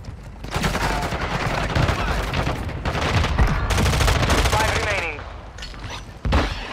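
Rapid automatic gunfire in Call of Duty: Modern Warfare II, loud sustained bursts of shots under a shouted voice, tapering off near the end before a final sharp report.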